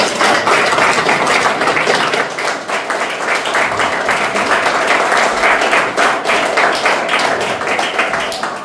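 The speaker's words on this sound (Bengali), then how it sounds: "তার জন্য একটা বড় করে হাততালি।" Loud, sustained clapping from an audience at an anniversary cultural event, a dense, continuous rattle of hands with scattered sharper claps and taps standing out near the front.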